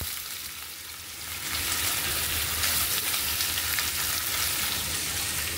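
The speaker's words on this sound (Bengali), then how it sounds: "লো ফ্লেমে পনিরটা একটু হালকা করে ভেজে নিই।" Paneer fries gently over a low flame in oil with whole garam masala and bay leaves, a dense, even sizzle that swells after a second and then holds steady and close.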